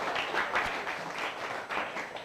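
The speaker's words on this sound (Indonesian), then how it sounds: "Tepuk tangan dulu untuk Pak Arif, luar biasa." A school audience at a Ramadan pesantren kilat event claps for a speaker, a brief burst of moderate, fairly close applause that swells and fades a little.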